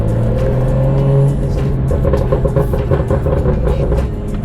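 A BMW M2 F87 engine revs close by with its exhaust valves open, a loud, deep, throaty drone that swells and wavers over a few seconds.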